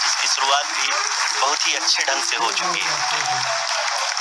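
A mission control audience applauds steadily through the vertical descent phase of a landing, with a continuous wash of clapping under a voice speaking over it.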